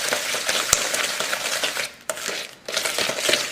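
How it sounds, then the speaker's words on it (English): An egg is beaten into pound cake batter, with quick scraping, clicking strokes of a utensil against the bowl in a busy, continuous stirring rhythm, close and without talk. "Just beat 1 egg at a time. Just give it a good whirl."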